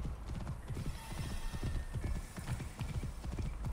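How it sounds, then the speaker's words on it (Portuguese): Horse galloping in Assassin's Creed Origins, rapid rhythmic hoofbeats drumming loud and close, steady throughout without speech. "Olha esse cavalo, velho."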